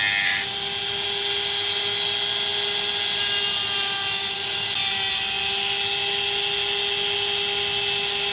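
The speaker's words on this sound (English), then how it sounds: "Taking the Dremel, putting a little bit more" Dremel rotary tool grinding a bevel into an N690 steel knife blade, a steady high-pitched whine with a constant tone that runs without a break for the whole stretch, close and loud.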